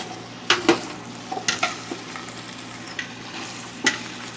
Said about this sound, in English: The sizzle sounds good.